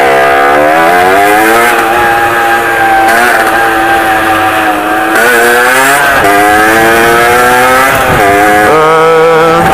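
A 50cc moped with a Carenzi kit engine, 19 Dell'Orto carburettor and SCR low-pass exhaust revs hard and close, its buzzy two-stroke whine climbing repeatedly in pitch, dropping and rising again without pause.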